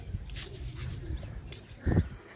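Pet pigeons cooing softly while being fed grain beside their coop, with faint scattered calls and a single louder, low coo near the end over quiet background rustle.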